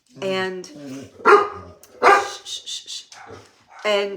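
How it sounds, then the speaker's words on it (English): A dog barks repeatedly in short, close yips and woofs, several in a loose rhythm with brief pauses between them. "this is Miss Socks giving you a little barky bark bark."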